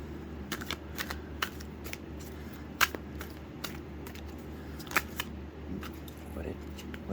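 Tarot cards being shuffled by hand: a steady run of crisp riffling clicks and sharper snaps, close and fairly loud, over a low background rumble.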